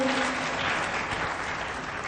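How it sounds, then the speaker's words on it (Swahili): Sustained applause from a crowd, dense even clapping that holds steady throughout. "makofi kwake tena"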